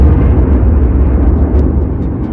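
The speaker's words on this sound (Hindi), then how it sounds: "बीच के इस भयंकर दबाव के कारण एक विशाल विस्फोट हुआ" A huge explosion effect depicting the birth of the Sun: a dense, continuous roaring rumble heavy in the low end, loud and sustained without a break.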